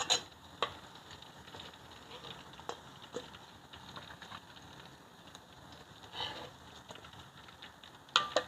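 Pork tails deep-fry in oil until crisp, giving a faint, continuous crackling sizzle with scattered sharp pops and occasional clinks of a utensil in the pan.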